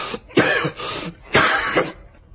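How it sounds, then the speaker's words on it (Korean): Two harsh, raspy coughs close to the listener, each a quick burst with a throaty, throat-clearing edge. "누가 기침 소리를 내었는가 말이야"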